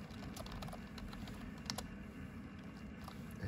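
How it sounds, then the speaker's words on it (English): Steady keyboard typing as a sudo password goes into a Steam Deck's terminal, a continuous close patter of keystrokes over a low background hum, with no voices. "we're going to enter our sudo password here"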